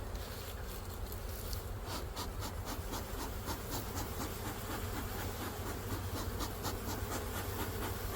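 A dense, steady buzzing of many honey bees swarming around an open hive, loud and close throughout, with faint rubbing and handling noises underneath and no talking.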